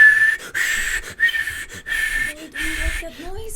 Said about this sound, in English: There's another whistle goes off.